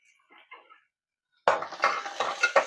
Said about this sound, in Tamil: வெங்காயத்தை நம்ம போட்டுக்கலாம்.